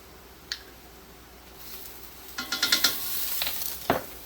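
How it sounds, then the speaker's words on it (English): Minced ginger is stirred in a pan, with a soft background hiss, a few scraping, clattering strokes of a utensil in quick succession, and one sharper knock near the end. "we're just going to stir that around"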